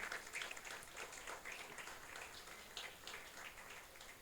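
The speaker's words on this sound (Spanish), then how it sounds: "Dele un fuerte aplauso al Señor." A church congregation claps at a seventh anniversary service, a faint, distant patter of applause with scattered individual claps standing out, steady and soft throughout.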